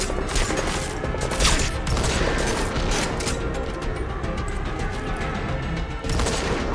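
Gunshots in Metal Gear Solid V sound as a steady stream of dull, close reports over constant game noise, with no clear gaps between them.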